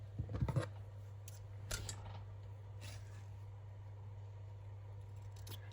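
Scissors snip paper scraps for a junk journal, a quick cluster of close crisp cuts near the start and a lone snip later, over a steady low hum in an otherwise quiet room.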